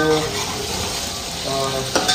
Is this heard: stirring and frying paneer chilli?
yes